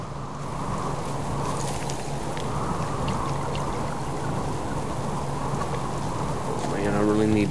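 Storm rain in the video game Subsistence: a steady, loud downpour hisses without a break, with a faint low rumble beneath it that swells slightly near the end.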